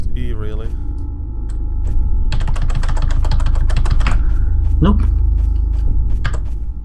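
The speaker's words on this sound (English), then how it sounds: "you're smashing that keyboard like it is about to kill you" Fast, frantic typing on a computer keyboard, a dense run of close clicking keystrokes lasting a few seconds, mixed with game ambience, a steady hum and people talking.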